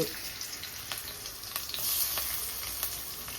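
Onions frying in oil in a kadai for a gongura dried prawn curry, a steady close sizzle with faint crackles and occasional stirring clicks, with no voices.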